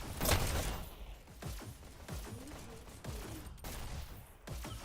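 SMG gunfire rattles through a competitive video game quarterfinal match as a player runs double SMGs, with repeated loud bursts and volleys, thumps and whooshes, steady and close.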